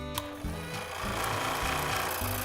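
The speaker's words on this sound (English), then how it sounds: "Now we're over to the scroll saw" Scroll saw cutting through a wooden workpiece, a steady close buzzing drone with a rapid reciprocating chatter and slight shifts in pitch as the cut proceeds, with no talking.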